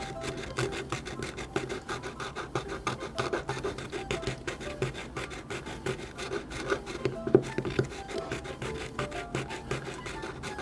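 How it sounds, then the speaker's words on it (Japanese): A hand tool rasps steadily at the back of the eye socket of a soft vinyl 1/3 scale doll, a continuous close filing scrape with fast rhythmic strokes and no talk. "この部分を重点的に削っていきます"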